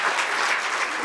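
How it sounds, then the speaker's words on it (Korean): Steady audience applause at a lecture concert on leadership, dense many-handed clapping at an even, fairly loud level throughout, with no voices over it. "박수 한번 쳐야지"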